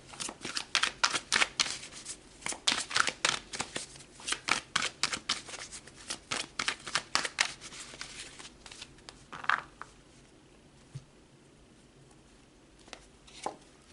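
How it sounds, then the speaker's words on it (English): Tarot cards shuffled in quick riffling bursts for about nine seconds, then a few isolated card snaps and flicks as cards are pulled, close and fairly quiet. "so let's pull more cards."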